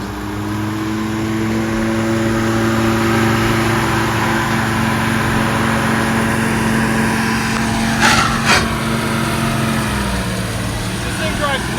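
An old barn-find Ford Deluxe sedan running hot, its engine giving off a steady low drone up close, with a brief whooshing pass near the end.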